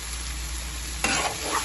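Fenugreek greens fry and get stirred in a pan, a steady close sizzle with a brief louder scrape of stirring partway through.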